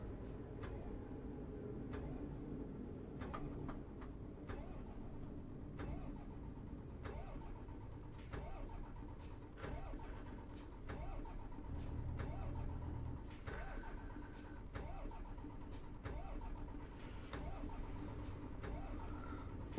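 A damaged truck engine in Euro Truck Simulator cranks over and over in a steady, regular rhythm, with repeated starter bursts that never catch, quiet but continuous.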